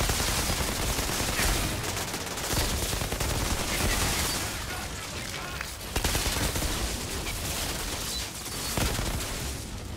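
Outriders Devastator gameplay on Xbox Series X fills with dense, continuous gunfire, loud overlapping shots and bursts that barely let up across the whole stretch, with booming impacts underneath.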